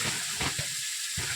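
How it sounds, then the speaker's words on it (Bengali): Chopped pumpkin, potato, onion and prawns sautéing in hot oil with salt, giving a steady close sizzle and hiss, broken by a few soft stirring scrapes. "পুঁইশাকের ডাঁটা, কুমড়ো কুচানো, আলু কুচানো, আমি এই যে পেঁয়াজ, চিংড়ি মাছ আর তেল আর নুনের উপরে এটা কষানো হচ্ছে"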